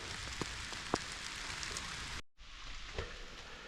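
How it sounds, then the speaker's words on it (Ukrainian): Rain falling in a forest during a mushroom-picking walk, a steady hissing patter with a few sharper drop taps, cut by a brief moment of silence before the shower resumes. "Дощ посилюється."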